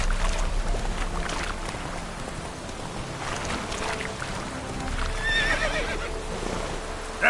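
Game horse from The Witcher 3 running at a gallop, with steady rumbling hoofbeats and movement noise throughout, then a neigh and whinny rising briefly near the end; no talking.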